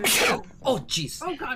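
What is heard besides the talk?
sneeze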